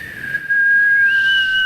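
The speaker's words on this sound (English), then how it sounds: "a free Birddogs whistle tip football with your pair of Birddogs" A whistle-tip football flies through the air and gives off a steady, loud, high whistling tone that holds for over a second after a short lead-in.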